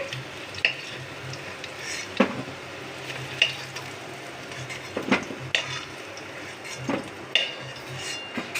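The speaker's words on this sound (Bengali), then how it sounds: "আমার আলুগুলো ভাজা হয়ে গেছে, আমি আলুগুলো তুলে নেব" Potatoes frying in oil in a pan for a fish kalia, a soft steady sizzle under repeated scraping and clinking of a spatula as the pieces are stirred and lifted out, with no talking.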